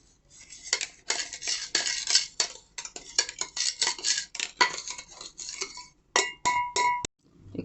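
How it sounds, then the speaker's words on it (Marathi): A spoon clinks and scrapes against a bowl while ground dink (edible gum) and coconut are stirred together, a quick run of close metallic taps and rattles with brief pauses between strokes. "आता आपण यामध्ये मिक्स करून घेऊ."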